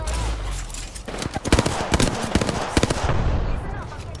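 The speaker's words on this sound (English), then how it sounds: "Listen up, I'm getting shot at." Rapid bursts of gunfire crack through a video game battle royale match, loud sharp shots in quick irregular volleys over steady background game noise, with a voice faintly present.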